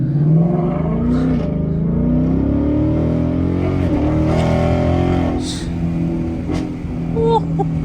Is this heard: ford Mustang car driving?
yes